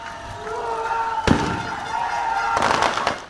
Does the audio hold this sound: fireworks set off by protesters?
yes